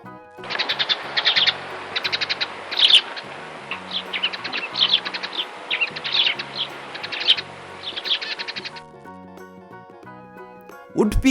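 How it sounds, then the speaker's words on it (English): Sparrow chirping in a series of quick, bright chirps and short trills, fairly close and lively, repeating in bursts before stopping abruptly, with a brief tone at the very end. "Sparrow."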